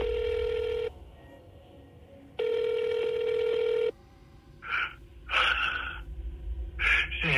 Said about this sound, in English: now we'll play the whole phone call